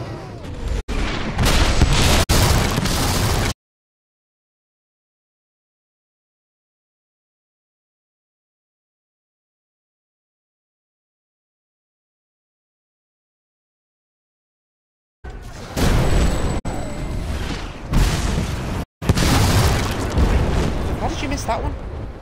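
Cannon explosions in Fable 3, dense booming blasts and rumbling bursts in two loud stretches separated by a long silent gap, with speech mixed in.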